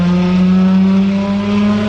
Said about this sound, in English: let's give it a pull for the boys. This is third gear, on around 40 miles an hour.